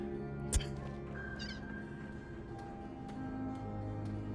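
A cat meows in Fallout 4, a few soft mewing cries over a low game ambience, with a brief sharp thump near the start.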